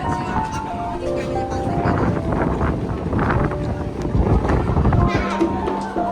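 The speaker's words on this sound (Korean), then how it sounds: "아니 바람 불어가지고" Wind at an outdoor pottery festival in Yeoju, heard as a rough, steady roar of gusts buffeting the microphone, loud and constant, mixed with people talking and calling out nearby.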